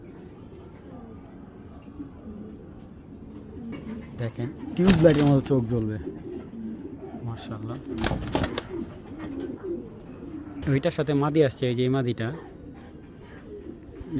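Indian Shahjahanpuri pigeons coo in a few short bursts close by, while someone talks over them most of the time.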